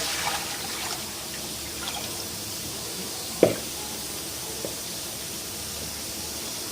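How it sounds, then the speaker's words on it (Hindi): Water poured into a pot for plum (aloo bukhara) chutney, a soft, steady trickle heard alone with one small knock partway through. "हम सबसे पहले पानी शामिल कर लेंगे।"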